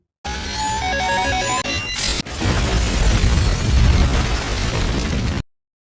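Tense electronic music gives way to a loud building explosion, followed by a sustained roaring, crumbling rumble of debris that cuts off abruptly.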